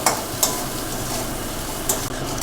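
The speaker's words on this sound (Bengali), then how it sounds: "দিয়ে এবার আলুটা একটু ভাজা ভাজা করে নেব" Potatoes frying in a pan with a light salting, a low steady sizzle broken by a few sharp scraping stirs of the spatula, close and moderately loud.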